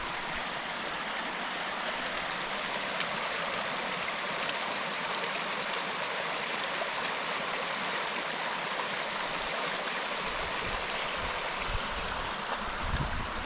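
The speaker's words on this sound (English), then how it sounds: "the creek looks nice and full, even up towards the headwaters where we are" Steady rushing and burbling of a full backcountry creek near its headwaters in Southern California, flowing close by, continuous and fairly loud with no pauses.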